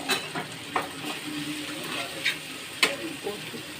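Cumin and turmeric powder wetted with water, plus salt and a little sugar, being stirred in a pan. A soft steady sizzle carries a few scraping strokes of the spoon, close by, with no speech.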